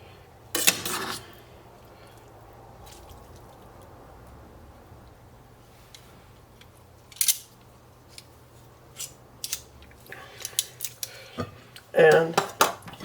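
Cutlery and pasta dishes clink while tuna linguine is served: a sharp clatter at the start, a quiet stretch, then scattered taps that build into a cluster of bright, close clinks near the end.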